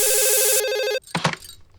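An electronic telephone bell rings in a rapid trilling pattern for about a second, loud and close, then cuts off and a brief voice follows.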